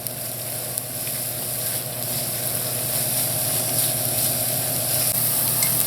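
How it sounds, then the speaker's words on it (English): Vegetables sauté in butter with black pepper in a pan, a steady close sizzle that holds even and continuous throughout. "And all you do now is saute until this is tender."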